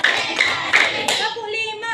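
Schoolchildren in an Indonesian classroom perform a call-and-response rhythmic clapping routine, with a few sharp hand claps between a teacher's spoken cues.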